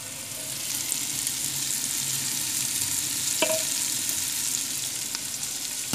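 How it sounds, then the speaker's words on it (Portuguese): Onion fries with meat in a pot for okra stew, a steady close sizzle with occasional stirring knocks and a brief clink midway. "Deixar fritar um pouco aqui essa cebola, para ela poder pegar o gosto também na carne."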